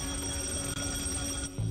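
A doorbell ringing constantly after fire melted its wires, a continuous electric buzzing ring with no breaks, fairly loud and alone without talk.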